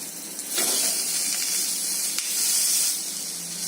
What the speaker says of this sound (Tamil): இப்போ இந்த மீனை திருப்பி போட்டு வேக விடலாம்.